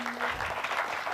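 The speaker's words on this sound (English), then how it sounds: "Please give him a round of applause." Applause from an audience, steady dense clapping throughout the short moment, fairly distant and even in level.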